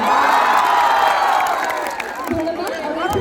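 A crowd at a college welcome ceremony for new students in Assam cheers and applauds, a loud sustained roar with shouts, then tapers slightly while a voice rises briefly near the end.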